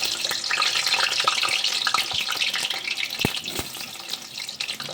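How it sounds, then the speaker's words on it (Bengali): Potatoes frying in hot oil in a kadai, a steady bright crackle and sizzle with scattered pops and a few stirring knocks, close and continuous with no talking. "তেল গরম হলে আমি আলুগুলোকে ছেড়ে দেবো, দিয়ে একটু নেড়ে চেড়ে ভেজে নেব।"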